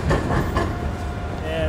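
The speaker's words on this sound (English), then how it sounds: "And a Bulgarian tram." A tram passes on a street in Sofia, Bulgaria, with a steady rolling rumble, faint rail clatter and a thin squealing tone, moderately close and unbroken.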